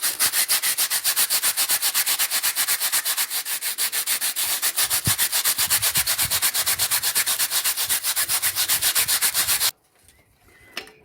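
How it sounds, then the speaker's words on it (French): Hand sanding of a sculpture block, a fast rhythmic series of close, loud abrasive rubbing strokes that continue steadily for about ten seconds and then stop, leaving quiet handling noise. "et si je le ponce."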